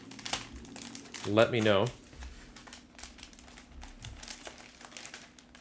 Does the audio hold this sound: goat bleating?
no